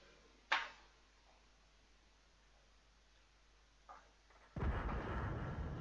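A KV-1S tank cannon shot in World of Tanks, heard as a single sharp distant report, a faint thump later, then a sustained loud rumbling roar of engine or impact noise with no voices.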